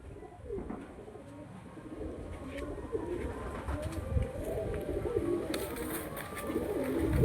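Pigeons coo and flutter close by, with the sound of wings building toward the end. No voices are heard.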